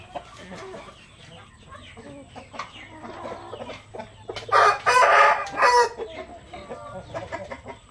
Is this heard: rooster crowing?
yes